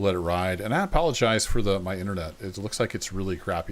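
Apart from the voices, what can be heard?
No distinct noise like a dog, phone or traffic.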